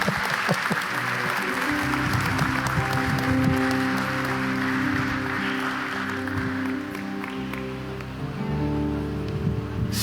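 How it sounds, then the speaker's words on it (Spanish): A church congregation claps under sustained musical tones, a broad steady patter of many hands, moderately loud, with faint voices mixed in. "Le damos un aplauso."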